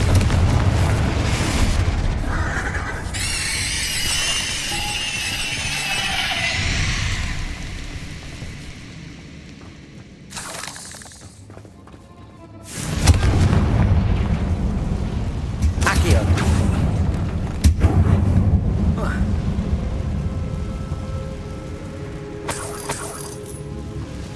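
Confringo spell blasts in the video game Hogwarts Legacy, heavy booming explosions with crackling, shattering debris and rumbling bursts, loud and close, repeated over a dense game soundscape, with brief spoken spell calls.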